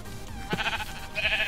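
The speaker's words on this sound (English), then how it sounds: "I see the last sheep that we can kill. It's right here." Sheep in a Minecraft-style video game bleating twice, a short wavering bleat followed by a longer one, fairly clear over quiet background.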